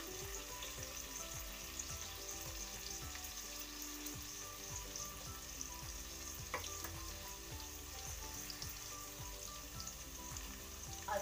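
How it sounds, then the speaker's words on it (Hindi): Vegetables with turmeric sizzle and fry in a pan for tahri, making a steady crackling hiss with occasional stirring scrapes, close and quiet, with no talking. "इसको हम अच्छी तरह से भून लेंगे"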